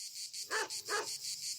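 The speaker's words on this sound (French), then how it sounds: "bercé par le chant des cigales" Cicadas sing in Provence, near Aix-en-Provence, a steady high-pitched buzzing drone that runs without a break, with two brief, louder mid-range calls rising over it.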